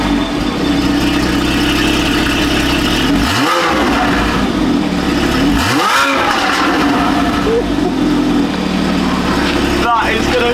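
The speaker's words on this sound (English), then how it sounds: "we need to do a sound test of how it sounds now with a stock exhaust with the FabSpeed headers" Porsche Cayman with stock exhaust and FabSpeed headers starts and idles loudly, then rises in two sharp revs, with a shorter blip near the end; voices talk over the engine.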